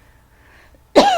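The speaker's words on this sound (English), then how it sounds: "As I cough all over the place," After near silence, a single loud, close cough bursts out and rasps on to the end.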